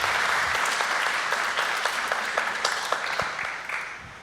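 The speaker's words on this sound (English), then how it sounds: "another round of applause for Peter doing all that." Conference audience applauding at a bitcoin technical event, a steady wash of many hands clapping at close range that fades slightly toward the end, with no talk over it.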